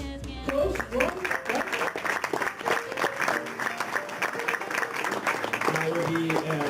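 An audience applauds at an awards gala: a sustained burst of clapping fills the room. A voice cheers and talks over it.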